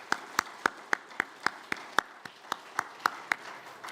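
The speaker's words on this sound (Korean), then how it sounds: "우리 다시 한번 시니어 교구 마을 구성원들께 큰 박수로 함께 격려했으면" A church congregation at a Sunday afternoon worship service claps in even, rhythmic unison, about fifteen sharp, evenly spaced claps over a quiet room.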